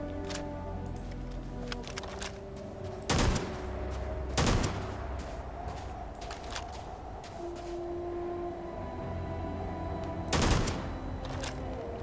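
Gunfire in the video game Starfield: three sharp, widely spaced shots, each cracking loudly over a steady low hum.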